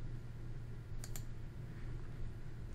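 Two quick computer mouse clicks close together, sharp but faint, over a steady low hum in a quiet room.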